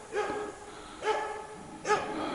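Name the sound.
dog barking at a hazel grouse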